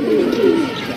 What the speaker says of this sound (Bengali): জি রেসার কবুতর আপনারা দেখতেই পাচ্ছেন